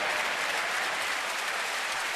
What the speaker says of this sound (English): Crowd always appreciates a strong throw from the outfield